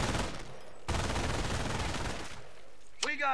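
Machine gun fire from an MG emplaced in a building in a strategy game battle, two sustained rattling bursts with a short pause between them, fairly loud, with faint battlefield noise around it.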